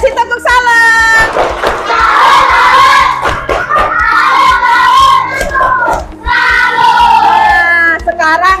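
Fifth-grade primary school pupils in a classroom chant and clap a rhythmic group cheer together, loud and continuous, with children's voices dominating throughout.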